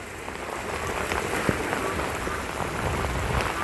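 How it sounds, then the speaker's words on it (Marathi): Heavy rain pours down in a dense, steady patter, with occasional sharper drops standing out against the constant wash of sound. "पाऊस पण लय आलाय पाऊस"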